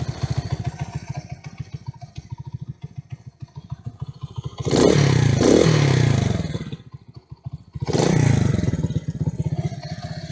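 A Delta moped's small engine idles steadily up close, revving twice in loud, rougher bursts, with a mechanical clatter running underneath throughout.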